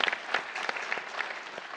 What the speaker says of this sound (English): See, I'm asking them to applaud before you say anything.